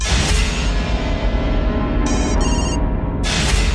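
A mobile phone ringing in a Bhojpuri action film scene, loud and close, with a repeating electronic ringtone over a busy background.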